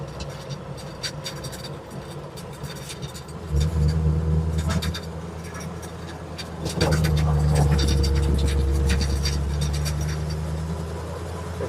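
A Chevrolet C60 truck with fuel injection accelerates in fifth gear, the engine note swelling in two loud surges with rising tone, close-up inside the cab amid rattles and scraping noises.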